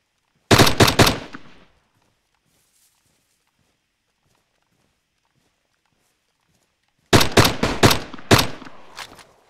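Gunfire in the video game DayZ: two loud bursts of rapid automatic shots, about a second each, separated by several seconds of near silence.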